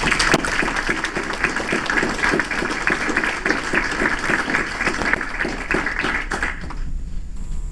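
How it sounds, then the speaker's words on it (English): An audience applauds after a talk, a dense wash of clapping that continues evenly for several seconds before cutting off near the end. "one more good round of applause for those guys"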